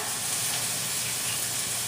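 Raw protein sizzles steadily in a hot pan for pizza toppings, a dense, even frying hiss that stays loud and close throughout with no talking.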